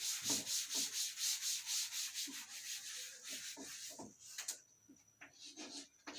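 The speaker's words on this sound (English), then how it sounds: "let me rub this first" A teacher rubs a classroom board clean with an eraser during a maths lesson. Quick back-and-forth scrubbing strokes come in a steady rhythm at first, then turn into slower, scattered wipes and taps, with no voice heard.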